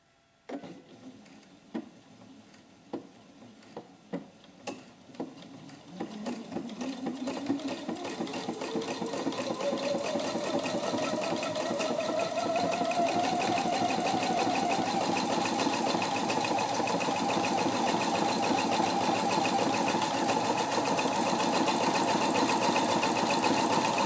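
A Pfaff 720 sewing machine stitches a straight row beside a fold through interfacing, starting with a few separate ticks and then rising into a steady, close, continuous mechanical whir that holds to the end.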